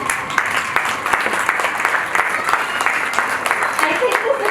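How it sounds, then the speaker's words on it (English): Steady, loud applause from the audience at a school investiture ceremony, with many hands clapping continuously throughout and crowd voices mixed in. "I think this applause should be directed to all those sitting there and all my teachers"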